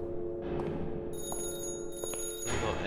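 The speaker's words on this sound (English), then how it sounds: "I'm gonna go answer stupid telephone because I have OCD and I need to answer every fucking" An old-style telephone rings inside the horror game The GroundsKeeper, a repeated bright metallic bell trill heard indoors over a steady low hum, moderately loud and with no voice.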